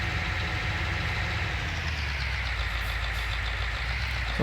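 Tractor engine left idling while parked, a steady low rumble with an even drone, close by and unbroken, with no voices over it.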